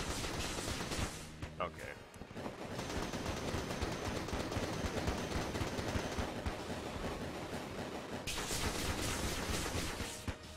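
Automatic AK fire in Enter the Gungeon, a steady unbroken stream of shots running for about ten seconds under background game sound, with a brief spoken word near the start.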